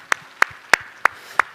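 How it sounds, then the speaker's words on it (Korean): Five evenly spaced sharp claps in a church congregation after a prayer, crisp and close with brief gaps between them in a quiet room. "우리 하나님께 영광의 박수합시다."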